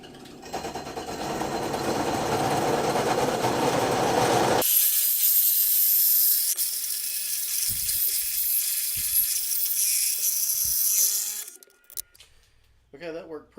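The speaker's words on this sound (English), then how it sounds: "The hole saw is a little slow. But those new pilot bits, the Milwaukee pilot bits I bought, are excellent." A hole saw fitted with a Milwaukee pilot bit drilling through material for a trailer ramp assist spring fix, a loud continuous grinding whine for about eleven seconds before it cuts off, followed by a few quiet knocks.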